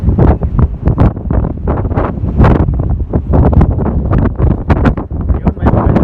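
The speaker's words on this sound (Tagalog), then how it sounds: "Lakas ng hangin." Strong wind buffets a microphone outdoors beside a busy traffic area on a sunny walk, with loud, constant gusting rumble and rustle filling the whole stretch.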